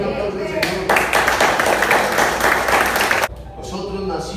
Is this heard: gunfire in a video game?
no